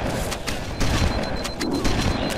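Shotgun fire in Halo: Combat Evolved, a few heavy booming blasts spaced about a second apart within steady, noisy combat ambience.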